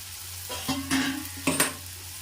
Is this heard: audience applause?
no